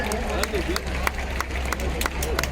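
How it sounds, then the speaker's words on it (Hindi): Audience clapping at a school inauguration ceremony in Azamgarh, as guests are garlanded and welcomed: steady scattered applause with sharp individual claps over a murmuring crowd and background voices. "जोरदार ताली दो और स्वागत करें"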